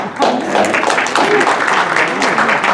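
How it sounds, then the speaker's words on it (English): Applause from an audience at a talk about living with Parkinson's, a broad wash of clapping that runs steadily throughout, mixed with voices and crowd murmur. "I get a lot of applause for not shaking."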